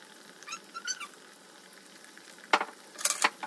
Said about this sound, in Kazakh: Енді қайнаған майға бауырсағымызды саламыз.